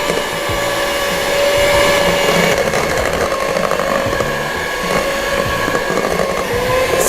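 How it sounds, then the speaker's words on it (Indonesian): An electric mixer on speed 1 beats cupcake batter in a baking class, giving a steady motor whine with a faint tonal hum and a rough, whooshing churn that stays loud and constant throughout, with no voices. "Kita mixer lagi dengan speed 1"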